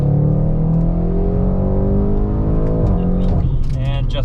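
An Audi RS6 Avant accelerates hard in manual mode, its loud engine note climbing steadily in pitch before a gear change drops it and the rev climb starts again near the end.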